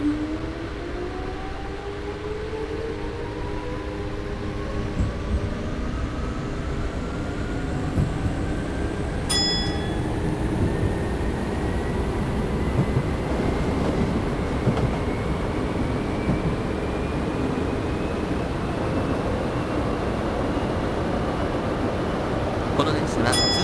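A Tokyu 8000 series commuter express rolls along the Toyoko Line in a train simulator game, its traction motors whining upward in pitch over a steady, continuous rail rumble, with a brief metallic ping partway through.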